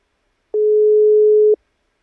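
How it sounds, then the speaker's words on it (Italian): Ringing tone on an outgoing telephone call: a single steady electronic tone lasting about one second, clean and loud, with silence before and after. "No, è ancora in fase di squillo."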